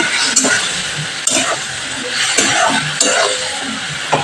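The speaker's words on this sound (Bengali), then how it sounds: "এবার মশলাটাকে আমি ভালো করে কষিয়ে নেব।" Spice paste with cumin cooking down in a pan for an egg curry, a steady close sizzle with soft scraping stirs recurring about once a second, no voices.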